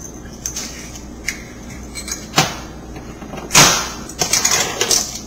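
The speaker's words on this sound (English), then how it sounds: "we're going to add some black peppercorns" Black peppercorns poured into a spice mix for puerco pibil, giving a few quiet clicks followed by two brighter rattling bursts as the dry peppercorns land among the other spices.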